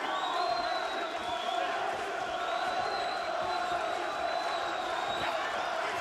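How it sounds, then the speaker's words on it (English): A boxing crowd at a British welterweight title fight roars steadily in support of a fighter, a dense, continuous wall of cheering and shouting heard from ringside with a commentator's voice over it. "And the crowd roaring O'Donnell on here, trying to give their man all the encouragement they can."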